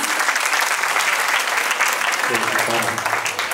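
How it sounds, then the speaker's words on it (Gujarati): An audience of women at a community gathering claps loudly and continuously for drama participants, dense applause filling the whole stretch before thinning slightly near the end as voices emerge. "એ લોકો બધા માટે જોરદાર તાળીઓ વગાડી દો પ્લીઝ"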